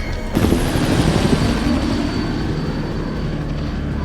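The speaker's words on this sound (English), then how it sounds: "He got the helicopters out." A loud helicopter roar begins abruptly, a steady droning rumble with rotor thrum that stays constant, with no speech.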